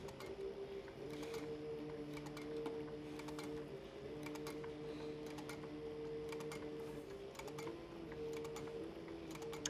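Sewing machine stitching through a thick canteen purse, a steady mechanical hum with rapid needle ticking running continuously at moderate volume, with brief clicks now and then.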